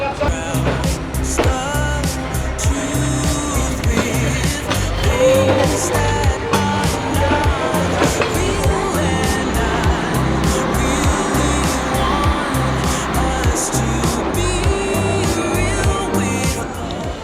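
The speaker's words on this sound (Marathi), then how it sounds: "तर अशा प्रकारे ट्रेन गेली निघून" A train rolls past at close range down Hanoi's narrow Train Street, a loud sustained rumble with clattering wheels and metallic squeals lasting many seconds.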